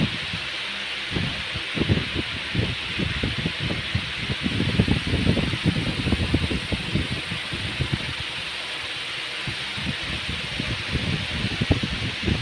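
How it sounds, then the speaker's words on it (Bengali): A steady, airy whir of an electric fan runs throughout, with soft fluttering and rustling bursts layered over the constant hum. "ফ্যান চলছে, এত হাওয়া দিচ্ছে।"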